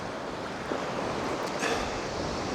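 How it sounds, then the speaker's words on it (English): North Sea waves roll onto the sandy beach at Anderby Creek in a dense, continuous surf wash, mixed with blustery wind buffeting the microphone and a slight swell toward the end, with no voices. "Have a look at them waves rolling in"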